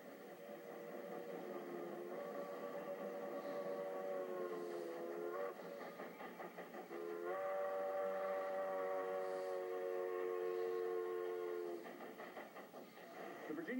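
A steady, sustained steam locomotive sound with strong tonal harmonics as a Feather River Shortline 2-6-2 climbs a steep grade on the Virginia and Truckee Railroad, holding for several seconds, dipping briefly, then returning louder with a chugging texture.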